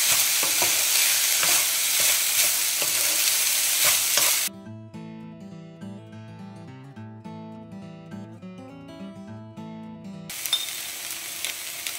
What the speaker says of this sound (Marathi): हितून हांव घालता लायट सोया सॉस.